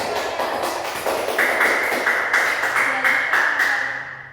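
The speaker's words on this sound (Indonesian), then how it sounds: "Coba beri tepuk tangan untuk" A fourth-grade class in an Indonesian Pancasila lesson claps together in a rhythmic, evenly spaced pattern of hand claps, close and fairly loud, with a sustained tone ringing beneath.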